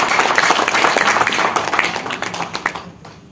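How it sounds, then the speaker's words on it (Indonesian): An audience applauds Bapak Muamir of the PKB party at a Batam rally, with dense clapping that is loud at first and fades out near the end. "Beri aplaus kepada Bapak Muamir."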